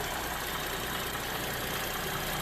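A 2012 GMC Acadia SLT with the 3.6 LLT V6 idles just after its first start following final assembly, with the check engine light on. The idle is a steady, unbroken drone with no talk over it.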